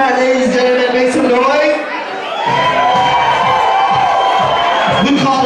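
Crowd at a drag ball at a club cheering, whooping and clapping loudly, with a short lull partway through before the noise surges back, shouting voices rising over the clapping.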